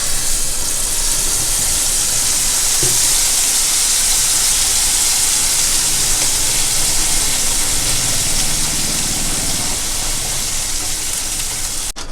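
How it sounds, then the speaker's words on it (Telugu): Garlic sizzling in hot oil in a pan while tomato pickle is made, a steady broadband hiss and crackle that runs loud and unbroken from start to finish, close to the pan, with no voice over it. "ఇప్పుడు ఇట్లా కొంచెం ఎల్లిపాయలు ఎర్రగా అయినాక పచ్చడి వేసేసుకోవాలి ఇందులో"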